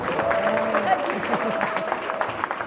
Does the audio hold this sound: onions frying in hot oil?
no